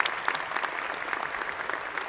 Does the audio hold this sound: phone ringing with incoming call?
no